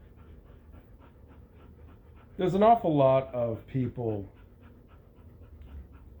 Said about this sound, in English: Excuse my dogs, they're breathing heavy.